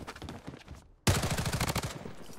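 Gunfire in the video game Blood Strike: a brief burst of rapid shots, a short pause, then a loud, dense stretch of automatic fire that keeps going to the end.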